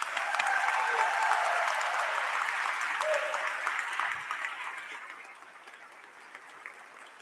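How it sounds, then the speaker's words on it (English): An audience gives sustained applause for the founder of the College of the Muskogee Nation at a graduation ceremony, a dense wash of clapping that holds steady and then gradually tapers off toward the end. "let's give him a round of applause, please"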